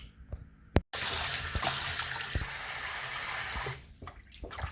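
Running tap water pours steadily into a kitchen sink as goat meat is rinsed for a Jamaican brown stew, a broad close hiss lasting about three seconds between brief handling clatters, with no talking.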